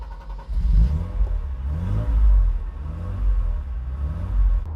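A Mercedes-Benz R107 SL300 restomod with a modified engine revs repeatedly, each blip swelling into a deep, loud rumble and then falling away, with no one talking.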